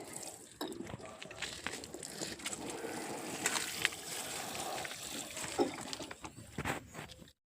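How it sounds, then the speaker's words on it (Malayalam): Water is poured by hand over freshly sown spinach seeds in a garden bed, making a soft, uneven splashing and trickling that is fairly faint throughout. "ഇച്ചിരി വെള്ളം ഇതിൻ്റെ മുകളിലോട്ട് ഒഴിച്ചു കൊടുക്കാം"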